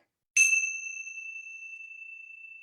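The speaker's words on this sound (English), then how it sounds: "And this is what the bell sounds like." A single yoga bell is struck once, a clean metallic ding that rings out and slowly fades over about two seconds in a quiet room.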